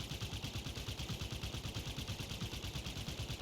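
Rapid automatic gunfire from a cannon turret in the Halo video game, a steady, fast stream of repeated shots at an even rhythm lasting throughout, with no one talking.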